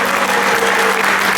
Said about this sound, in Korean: 복귀영 위원장님께도 커다란 박수 한번 부탁드려도 어떨까요